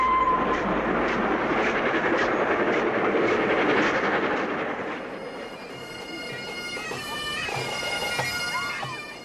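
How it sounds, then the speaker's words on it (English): Flying Scotsman steam locomotive running on rails, a steady loud rolling roar with rhythmic wheel clatter that eases slightly partway through, with no talk over it. "the nation's favourite steam engine is coming home to the National Railway Museum"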